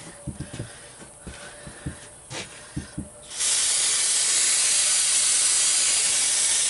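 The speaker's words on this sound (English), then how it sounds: "Spray off all that gunk, carbon, or whatever you want to call it." A few light clicks and knocks, then a loud, steady hiss of aerosol cleaner spray starts abruptly and continues without a break, close up, cleaning carbon off starter generator parts.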